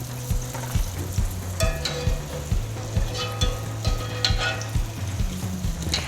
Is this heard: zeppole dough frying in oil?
yes